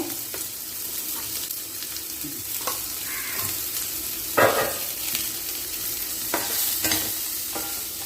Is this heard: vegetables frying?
yes